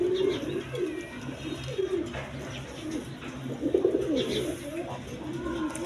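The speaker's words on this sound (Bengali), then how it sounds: "এই দেখেন কবুতরগুলা" High-flying pigeons coo close by in a series of low, rolling throaty calls with short pauses between them, moderately loud, over faint background noise.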